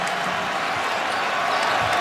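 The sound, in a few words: basketball arena crowd cheering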